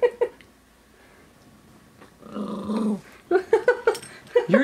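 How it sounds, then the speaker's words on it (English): A jealous dog growls low and rumbling at its owner kissing his girlfriend. Faint at first, the growl rises to a drawn-out snarl, then breaks into several short yips and whimpers, close by with no talk. "You just growled at me"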